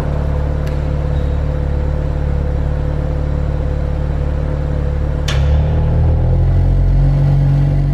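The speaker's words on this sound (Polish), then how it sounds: "Teraz przepustnica jest otwarta," Exhaust of a new Audi RS5 with its exhaust valve opening, a loud, steady low rumble throughout that deepens and grows a little fuller in the last few seconds, with two sharp clicks.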